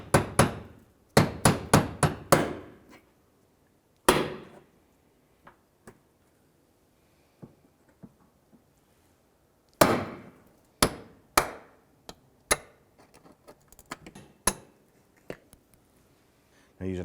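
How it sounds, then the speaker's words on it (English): Hammer blows driving a punch through rivet centers on a 2004-2009 Dodge Durango exhaust manifold, sharp metallic strikes in quick clusters separated by quiet pauses, some taps softer, up close. "you're going to punch out the center and go all the way around"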